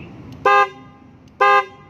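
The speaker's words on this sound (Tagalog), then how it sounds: "So busina tayo." Two loud, short car horn blasts about a second apart, each a bright steady honk over a low background hum, from a loud horn wired through a relay.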